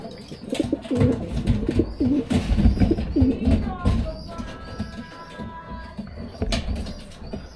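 A racing pigeon coos near the loft during a derby race, soft repeated coos mixed with other bird calls while a voice talks intermittently nearby.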